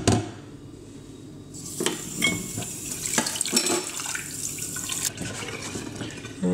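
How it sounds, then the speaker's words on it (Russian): Tap water runs into a metal pot as it is rinsed after the burnt residue is boiled off, a steady close splashing broken by knocks and clanks of the pot against the sink. "Сейчас мы это водой сполоснем"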